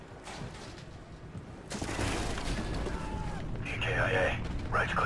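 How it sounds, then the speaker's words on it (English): Gunfire from the Call of Duty: Ghosts campaign, a burst of shots and booms in a control-room fight, loud and dense over the game's sound with some talk mixed in. "Whoa, gunshots"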